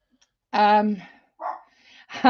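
A dog barks sharply at someone indoors, a few close, loud barks in quick succession with a brief whimpering tone between them.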